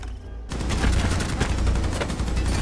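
Rapid sustained machine-gun fire in the game Rainbow Six Siege, a dense, loud stream of shots that starts abruptly after a brief quieter moment and continues without pause.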